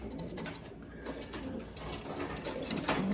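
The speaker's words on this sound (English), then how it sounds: "These are long distance birds." Long-distance racing pigeons coo softly in a loft, with low murmuring calls repeating under faint background noise.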